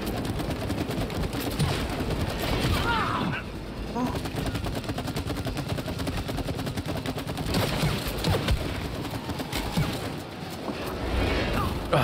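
Continuous rapid gunfire in the It Takes Two video game, dense loud bursts of shots with crashes and impacts mixed in throughout, voices talking over the barrage.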